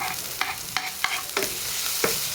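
Onions, tomatoes and spring onions stir-fried in a pan, with a steady sizzle and a series of sharp spatula scrapes and stirs in quick succession, close up and with no talking.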